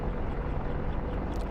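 An AH-64 Apache attack helicopter in the DCS World flight simulator gives off a continuous, dense rotor and engine roar, steady and loud throughout with no pauses.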